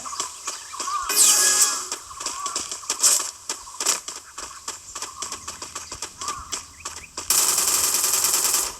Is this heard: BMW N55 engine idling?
no